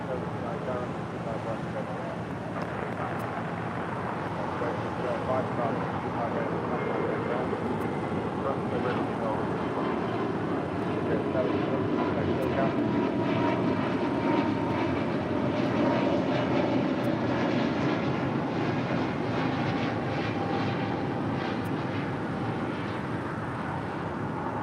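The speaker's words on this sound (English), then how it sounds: "Coming in from Chicago Midway, Southwest Airlines flight 3605 at a 737 MAX 8" At LAX, a Southwest Airlines Boeing 737 MAX 8 arriving from Chicago Midway gives off a continuous, moderately loud jet engine rumble and roar that swells slightly midway, with voices probably present beneath it.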